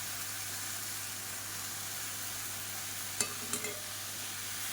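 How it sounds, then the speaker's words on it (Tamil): Drumstick leaves sauté with tomato and onion in a pan as a faint, even sizzle, broken by a couple of quick utensil clicks near the end. "இதில் 2 கைப்பிடி அளவுக்கு முருங்கைக்கீரை கழுவி சுத்தம் பண்ணதை சேர்த்துக்கலாம்."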